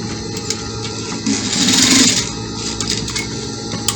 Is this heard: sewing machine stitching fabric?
yes